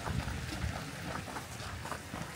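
Steady, continuous rush of a mountain stream flowing through a snowy forest at Seonunsan in Gochang, an even broadband wash with no voices over it.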